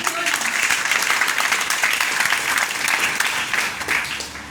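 Sustained applause from an audience at a stage event honouring seniors, a dense, even wash of many hands clapping close and loud throughout.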